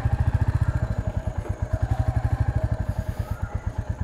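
A Royal Enfield Classic 350 in Gunmetal Grey thumps along at steady speed in one gear, its single-cylinder exhaust beating in a fast, even rhythm, loud and close throughout.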